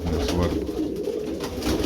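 Pigeons coo in low, soft, rolling calls close by, a continuous murmur of overlapping birds with no talking.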